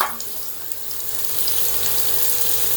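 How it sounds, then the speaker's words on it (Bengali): About three tablespoons of chopped onion hit hot ghee and oil, setting off a loud, close, steady sizzle that builds slightly and holds as a continuous hiss. "ঘি আর তেলটা একটু গরম হলে প্রায় 3 টেবিল চামচের মতো পেঁয়াজ কুচি দিচ্ছি।"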